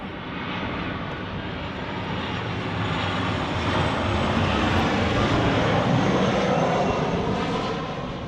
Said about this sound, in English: It's another Ryanair.